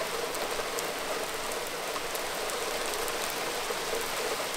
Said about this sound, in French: Là il pleut à verse. Allez les grosses gouttes les amis.